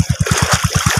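River water splashes against someone showering in it, a quick rhythmic series of close, wet slaps and splatters over a steady rushing stream.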